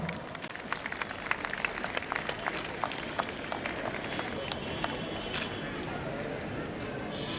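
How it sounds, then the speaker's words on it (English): Steady crowd applause at the St Anthony school annual function in Barabanki, many hands clapping together in a dense, continuous patter with sharp claps standing out, as guests are welcomed on stage. Voices carry faintly underneath. "Please do welcome them with a huge round of applause."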